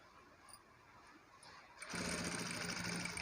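A sewing machine starts stitching a designer blouse, its neck lining sewn down. After a quiet lead-in it whirs into a steady, close mechanical buzz for the last second and a half.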